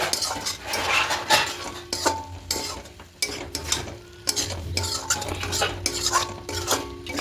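A utensil stirs chicken kosha in a pot without oil, with repeated scraping and clinking strokes against the metal under a soft steady sizzle, close and continuous with brief pauses between stirs.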